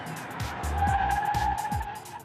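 A car brakes hard in a full automatic emergency stop, tyres skidding and squealing at length, with rapid thumping pulses underneath and no voices.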